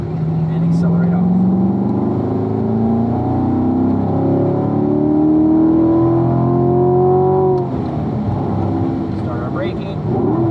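A race car on the Spring Mountain circuit runs close and loud throughout, its engine note sweeping down under braking and rising again as it accelerates out of the corner, twice in succession.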